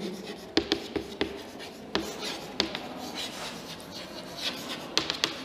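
Pen or marker scratching across a surface in a chemistry lesson, with short irregular strokes and sharp taps close by and moderately quiet. Nobody speaks.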